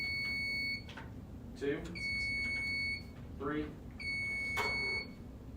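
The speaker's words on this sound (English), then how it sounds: "Let's go ahead and do a buzzer check." Quiz competition buzzers sounding in turn during a check, three sustained electronic tones about a second each, with a man counting aloud between them.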